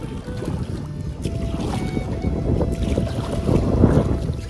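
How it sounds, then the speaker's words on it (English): Strong wind buffets and roars across the microphone outdoors on the flooded Athabasca River while paddling, gusting steadily louder toward the end, with no talking. "It's getting really windy right now."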